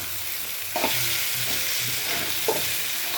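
Sweet pumpkin frying with dried chili, salt and coriander leaves is stirred in a pan: a steady close sizzle with a few soft spatula scrapes and knocks.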